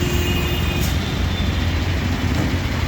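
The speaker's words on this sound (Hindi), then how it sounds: "और इस प्रकार से लगातार ही यहाँ पे गाड़ियाँ भागती रहती हैं।" Steady, continuous roar of vehicles streaming along a mountain highway, a broad low rumble with no clear gaps between passes, heard from close by.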